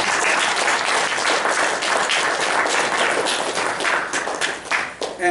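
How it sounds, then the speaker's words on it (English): A large audience claps steadily at a Sahaja Yoga music evening as a classical singer is welcomed, dense applause holding at full strength throughout before thinning slightly at the very end. "Let's give her a big round of applause."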